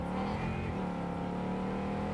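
A car drives in Cyberpunk 2077 with a steady, loud engine drone that holds a constant pitch throughout, close and continuous, with no speech over it.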